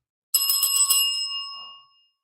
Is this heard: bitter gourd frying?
no